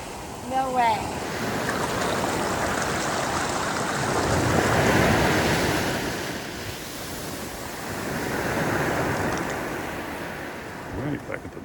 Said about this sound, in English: Got some big waves coming in here.